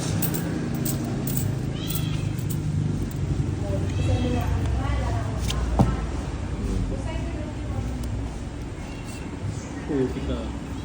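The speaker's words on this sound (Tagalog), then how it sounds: "Oh, yung pusa." A cat meowing repeatedly amid a busy, noisy backdrop of constant rumble and overlapping people talking, the cries rising and falling through the scene.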